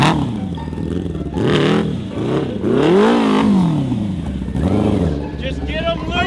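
Quad fitted with a swapped 170-horsepower sport-bike engine revs hard in repeated rising and falling bursts, loud and close, with people talking around it.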